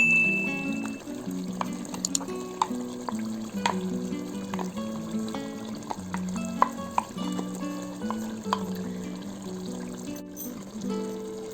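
Masala paste fries in oil for a country chicken curry, a close sizzle with repeated spoon scrapes and stirring clatters against the pan, steady throughout with no voices.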